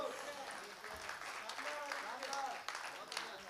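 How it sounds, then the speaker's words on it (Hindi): Audience applause at a Hindi poetry recital (kavi sammelan), a steady wash of many hands clapping through the whole stretch, with crowd noise and voices mixed in. "जरा तालियां उठाइएगा राणा प्रताप वाली"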